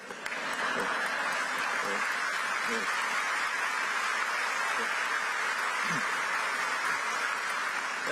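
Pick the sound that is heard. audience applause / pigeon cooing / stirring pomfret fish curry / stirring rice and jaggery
audience applause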